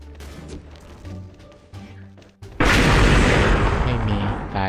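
A grenade detonates in the shooter game XSHOT, a sudden loud boom with a long rumbling tail that cuts in after a stretch of quieter game sounds and scattered tones.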